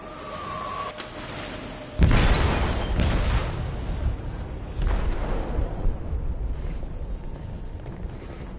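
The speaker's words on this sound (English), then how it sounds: "They detonated an explosive in the hole." Explosion in a PlayStation video game, a sudden loud blast detonated in a hole aboard a ship, followed by rolling rumble and a couple of smaller thumps fading out.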